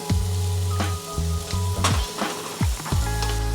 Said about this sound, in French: on peut ajouter les oignons et l'ail sans se brûler.